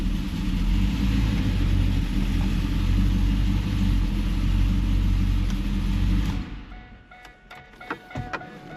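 A WS6 Trans Am engine runs loud and steady with a deep low rumble, then cuts off after about six seconds, leaving quiet clicks and small knocks.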